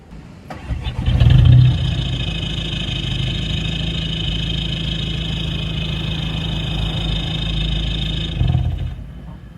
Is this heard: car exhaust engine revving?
yes